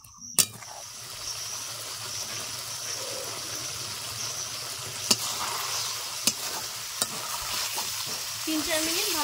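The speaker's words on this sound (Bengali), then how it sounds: "তিন 4 মিনিট ভালো করে নেড়ে চেড়ে নিয়েছি।" Fried pointed gourd being stirred through a yogurt gravy in a pan over medium heat, a steady soft sizzle with scraping stir strokes and a few sharp clinks of the utensil against the pan.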